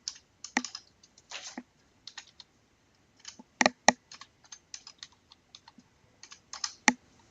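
Scattered keystrokes typed on a computer keyboard while entering values into robot simulation software, coming in irregular short bursts with pauses between them, fairly close and clean, with no talking.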